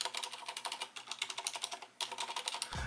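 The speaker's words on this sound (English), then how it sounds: "It sounds almost like a very soft brown switch." Soft, muted typing on a keyboard with silent switches, like very soft brown switches: a quick steady patter of light, dampened keystrokes close by, with a brief pause midway before the typing resumes.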